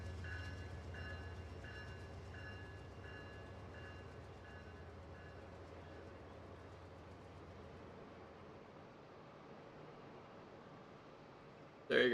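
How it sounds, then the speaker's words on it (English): A train passes a level crossing in the Rail Sim Universe simulator game: a steady, loud rolling rumble with a rhythmic clacking of wheels that slowly thins out, ending in a sudden sharp burst of noise. "There goes our train"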